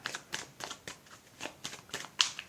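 Playing cards are shuffled close by in a quick run of riffling bursts, ending with a crisp, sharper snap.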